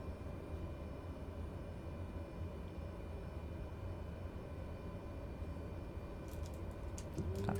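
A Cessna Caravan taxis slowly in Microsoft Flight Simulator 2020, its turboprop engine giving a steady, fairly quiet drone that holds even throughout, with a few faint clicks near the end.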